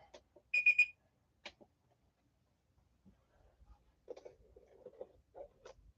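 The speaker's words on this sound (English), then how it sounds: "we're going to start the auction timer." An auction timer starts with a bright alarm-clock-like ring of a few quick pulses, followed by a single shorter chime, then quiet low rumbling and a faint muffled voice-like murmur near the end.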